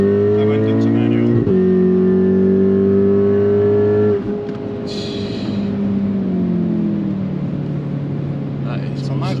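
VW Golf R Mk7.5 with a Stage 3 tune accelerating on a smooth road, engine note droning steadily, then shifting to a lower pitch partway through as the revs change, with people talking over it inside the car.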